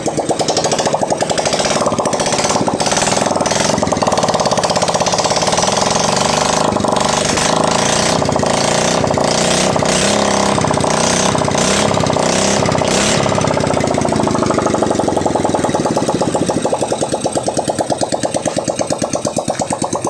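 A freshly overhauled Yamaha Mio Gravis scooter engine runs close by, a loud, rapid, rattly putter with uneven revving that settles slightly toward the end, with no voices over it.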